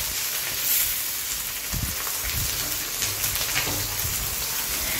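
Chopped onion hitting hot oil gives a steady, even sizzle like heavy rain that carries on unbroken throughout, with a few soft low knocks from the pan.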